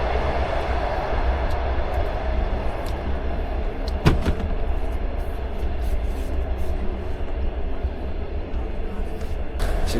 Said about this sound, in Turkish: Bu saatten sonrasını birazcık trenin içinde oyalanarak, trenin içinde gezerek geçirmeye çalışacağım.